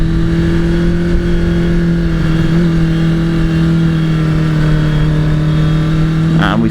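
A Suzuki GSX400F Katana 400cc motorcycle being ridden, its engine a steady, loud drone with a strong low hum that holds throughout, close up and with no one talking.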